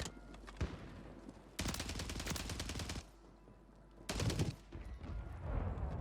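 Gunfire from a Warzone gunfight arrives in sustained automatic bursts, loud and close, with short pauses between the volleys.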